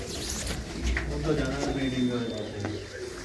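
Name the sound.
pigeons in a loft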